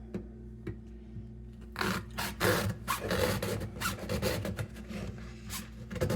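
A knife saws and scrapes through the metal strip of a conventional oil filter, giving a rough, rasping run of strokes that starts quietly, grows loud and close, then continues in irregular bursts.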